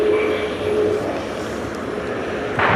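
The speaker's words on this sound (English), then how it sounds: "This is the Ryanair from Brussels" A Ryanair jet arriving from Brussels rumbles with a steady, broadband engine roar at Dublin Airport. The sound holds at an even level and swells slightly near the end.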